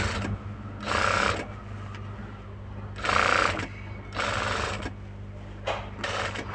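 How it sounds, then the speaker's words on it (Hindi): A sewing machine stitches along a cloth strip under half foot-pedal pressure, sounding in several separate loud bursts of rapid whirring, close up, with quieter motor hum between runs. "इस तरह से हमें ये पट्टी पे सिलाई लगा लेना है आधे पैर के दबाव से"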